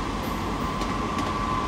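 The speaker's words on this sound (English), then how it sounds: "That'll be a cross country HST." Cross Country HST diesel train arriving at Exeter St Davids station, a steady rumbling roar with a faint high whine, close and loud throughout the short stretch.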